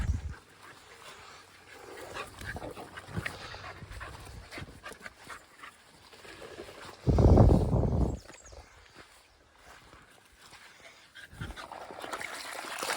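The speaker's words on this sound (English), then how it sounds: "That's Finley's new squirrel dog, Shorty" A dog pants and moves about nearby, with a soft whimper, while water from a Smart Bot 2800 pump draining a spring trickles and splashes in the background, and one louder burst of noise.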